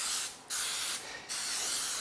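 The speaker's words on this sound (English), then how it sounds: "give it a little spritz of, this is coconut oil cooking spray" Two short hissing bursts of coconut oil aerosol cooking spray onto a nonstick waffle iron, each about half a second, separated by a brief pause, close and clear.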